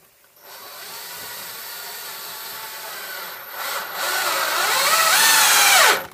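A power drill drives screws into wooden battens on a roof soffit framework of a hip-roof bungalow, a steady whirring drone that rises in pitch and strength toward the end, then stops abruptly.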